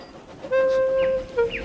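The steam engine Thomas gives a loud, steady whistle that holds for most of a second, then a shorter second toot, both close and clear over a quiet background.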